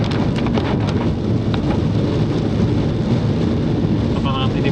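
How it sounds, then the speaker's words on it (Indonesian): Heavy rain pours steadily and loudly inside a Suzuki Karimun Wagon R driving through a storm on the southern route from Jogja to Batukaras, with low rumbles of thunder under a constant wash of drops on the car. "Oh ini hujannya merata kayaknya nih."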